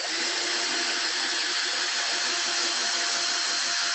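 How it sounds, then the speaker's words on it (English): A handheld power drill runs steadily while winding 162 turns of wire onto a 4 millimeter rod, a continuous loud whine and whir with no pauses or talking. "Don't pull the drill. Just push it."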